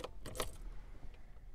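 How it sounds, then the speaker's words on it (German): Car keys jangle and click as the key turns in the ignition of a VW e-Golf electric car, a few quick metallic rattles up close at the start, then quiet cabin hum. "Einmal Schlüssel drehen"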